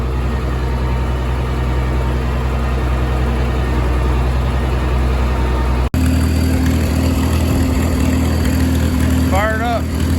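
The engine of an International 1456 tractor that had not run for a while, known to be noisy, rumbles loud and steady at close range. A sharp knock comes midway, after which the tone shifts, and a short voice sounds near the end.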